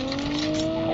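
A vehicle driving in a Call of Duty Mobile battle royale match, a steady droning engine hum with sustained tonal whine, loud and close throughout the short moment, no clear speech.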